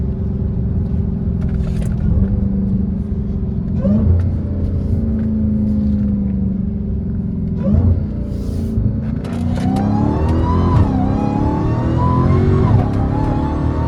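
A Dodge Hellcat Redeye on a canyon road, its engine droning loudly and steadily, then revving up several times in surges with rising pitch toward the end, heard from inside the car.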